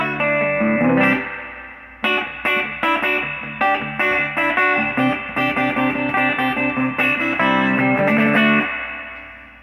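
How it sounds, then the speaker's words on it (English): An electric guitar plays through a tube amp with the spring reverb turned up to 7, giving a wet, surfy wash. Chords are picked in a steady rhythm, close and loud, with a long reverb tail at the end. "I'm going to turn the reverb up a little bit. It can actually get pretty surfy sounding."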